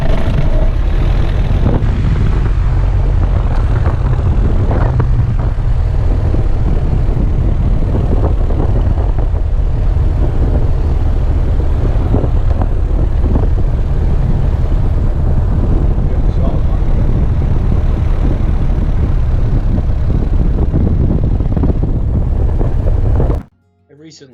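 A Piper Archer PA-28-181 engine starts up and settles into a loud, continuous droning roar close by, running steadily for over twenty seconds before cutting off abruptly.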